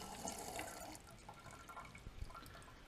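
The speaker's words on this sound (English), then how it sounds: "Get most of it into the strainer." Homemade wine poured into a strainer, a faint, close, continuous splashing trickle of liquid with small drips and knocks, no talk.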